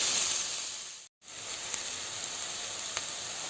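Onions fry in a pan for an egg drop curry, giving a steady, even sizzle with a short break of silence partway through.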